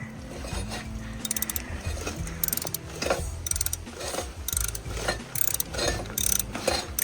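A ratchet clicks in repeated bursts as a VW TDI engine is turned over by hand, the pawl chattering loudly and close with short pauses between pulls and a low mechanical grind underneath.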